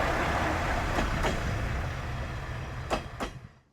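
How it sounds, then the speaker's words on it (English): A train bound for Anabuki, seen on a rural line in Japan, rumbles steadily and near and stays continuous, with a few brief clanks and squeals toward the end. "Speaking of trains, here is one. This is a train back to Anabuki."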